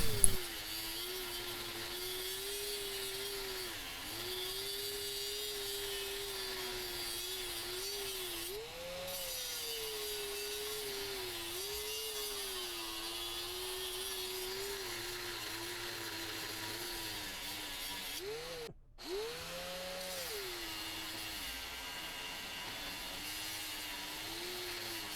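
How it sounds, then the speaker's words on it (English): A saw grinds steadily through a tough Aquamet 22 proprietary stainless steel bar, a continuous droning cut with a wavering pitch that runs the whole stretch and breaks off briefly near the end before resuming. "I think it took me all of about 7 or 8 minutes to actually cut through this bar."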